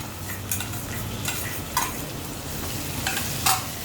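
Tomatoes and green chili frying with browned onion in ghee, a steady close sizzle broken by a few stirring scrapes of a spoon in the pan.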